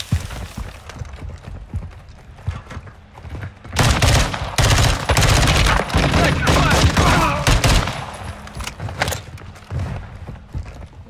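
Gunfire in Warzone 2.0 DMZ, with dense, loud bursts of shots packed together in the middle of the stretch and scattered quieter shots before and after.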